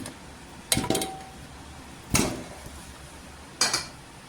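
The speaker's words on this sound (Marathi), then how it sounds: "पहा इथे कुकर घेतलेली आहे, त्याच्यामध्ये ही भाजी टाकायची" Pieces of taro (arbi) dropped into a pressure cooker in a home kitchen, making three separate sharp clattering knocks against the metal pot, spaced about a second and a half apart with quiet in between.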